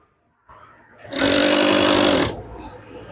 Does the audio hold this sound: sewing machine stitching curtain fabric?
yes